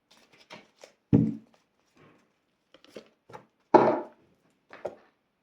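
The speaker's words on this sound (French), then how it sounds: "Ces cartes, elles sont très longues, vous voyez. Donc, elles ne sont pas faciles à mélanger." Long oracle cards being shuffled by hand: a few soft papery slaps and riffles scattered across a quiet room, two of them louder and fuller, with pauses between.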